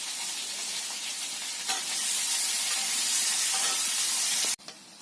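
Potatoes fry in hot oil in a pan, a loud, steady, dense sizzle with a brief stirring scrape, cutting off abruptly near the end before a softer hiss resumes.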